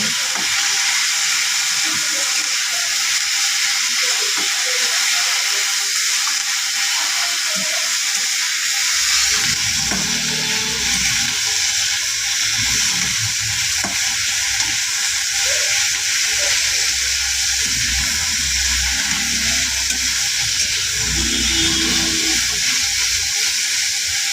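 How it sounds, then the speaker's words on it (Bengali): Spices sizzle in a hot wok while a metal spatula stirs them for a kharkol leaf paste, a constant loud hiss joined midway by scraping, rattling strokes and bursts of frying. "এবার একটি খুন্তির সাহায্যে কড়াইয়ে মশলাগুলোকে নেড়ে চেড়ে নিচ্ছি"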